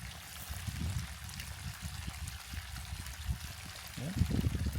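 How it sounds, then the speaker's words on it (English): Water pumped in from a reservoir outflow pours steadily into a pond, a continuous low splashing and trickling that grows a little louder near the end, with no talk over it. "we also are pumping water in from the outflow of the water reservoir"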